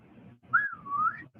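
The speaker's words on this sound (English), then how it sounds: "You know how to whistle" A person whistles a short rising-and-falling tune over low murmuring chatter in the background.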